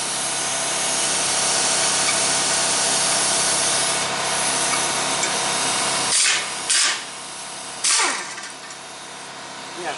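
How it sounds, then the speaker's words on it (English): An air impact gun rattles loudly in close, continuous bursts while removing bolts during a clutch job on a 1995 Dodge Dakota Sport 4x4, then cuts off into short, sharp stop-and-start blasts near the end. "Now we got the air gun."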